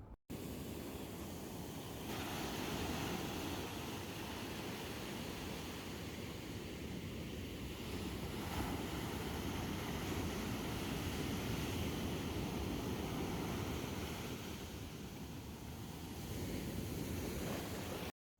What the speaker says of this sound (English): So I'll leave the sounds of the waves for you.